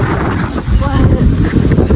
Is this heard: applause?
no